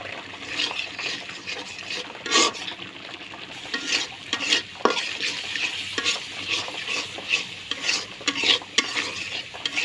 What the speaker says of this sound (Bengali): এখন মশলাটা কিছুক্ষণ কষে নেব আর যে কোনো কষানের জিনিস কষানের সময় একটু জালটা না জোরে দেওয়া লাগে